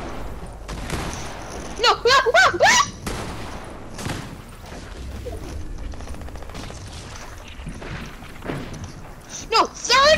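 Bursts of rapid gunfire from other players spraying in a Bio zone wars video game match, loud repeated volleys with a player's shouting and talk over them.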